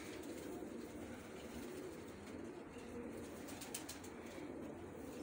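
Turtle doves coo faintly at a distance against steady outdoor background noise.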